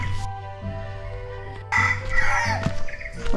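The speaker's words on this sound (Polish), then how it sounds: "Koguty drą japę." Roosters crow from near and far around a hillside trail in Phuket, Thailand, with overlapping calls and a steady low hum underneath, and no talking.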